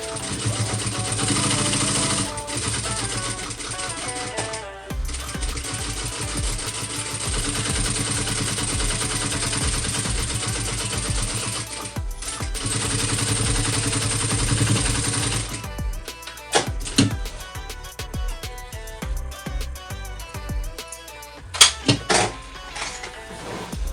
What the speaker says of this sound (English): I'm going to go ahead and go around and just do a real quick basting stitch just to keep these layers together